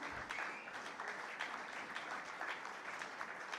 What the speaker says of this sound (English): And may I request that the applause need not die down.